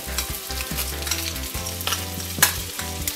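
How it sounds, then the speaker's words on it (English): Onions sizzle and crackle in a hot pan while frying for a Jamaican rasta shrimp pasta, a close, steady frying hiss broken by stirring scrapes and small pops, with no talking. "so now I'm gonna add some onions,"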